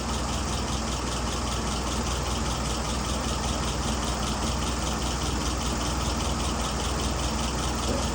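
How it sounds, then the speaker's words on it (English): A Tony's WO 539S engine idles a little low while its idle speed is adjusted, giving a loud, dense, unbroken rumble that holds steady throughout with no voices. "that idle's just a tad on the low side"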